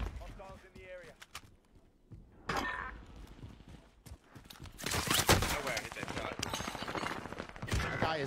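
Gunfire crackles in a combat video game, starting sparse and building into dense bursts of shots in the second half, with a player talking over the action.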